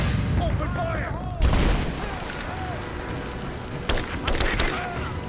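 Enemy gunfire in the video game Rise of the Tomb Raider, bursts of shots and a sharp blast around the middle and near the end over a busy battle backdrop with shouted calls mixed in.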